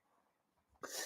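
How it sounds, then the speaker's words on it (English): A man bursts into a loud fit of coughing, a sudden harsh outburst after a quieter stretch of breathing and muffled throat sounds, close to the microphone. "I went into a full-blown coughing fit there."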